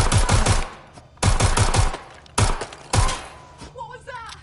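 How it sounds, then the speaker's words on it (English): Gunfire aimed at the player in the video game Watch Dogs Legion: loud, close bursts of rapid automatic shots, three or four clusters separated by brief pauses, then fading into quieter background noise. "Being shot at here!"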